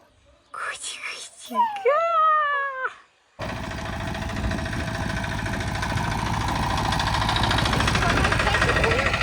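A cat gives a couple of drawn-out, wavering meows near a speaking voice, then a steady mechanical hum takes over and runs to the end.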